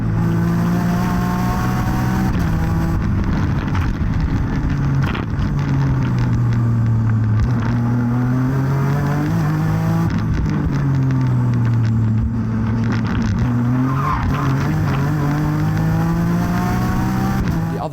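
A 420 bhp racing car on slick Dunlop tyres holds a loud, continuous engine note, close up. The pitch climbs and dips as the revs rise and fall, with a rough rumble underneath throughout.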